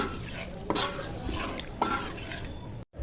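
Stirring fish curry in a pot after water has been added, a few soft scraping and clinking strokes over a low bubbling wash, brief and quiet, ending in a sudden cut.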